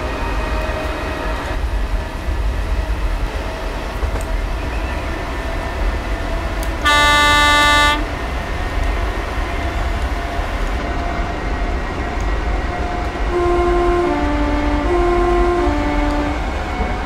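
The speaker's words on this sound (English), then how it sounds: "Train sounds really, really, really nice. Just like the class 315." A Class 314 electric train in Train Simulator 2019 hums and rumbles steadily, sounds one loud horn blast midway, then gives a few short two-tone tones later on.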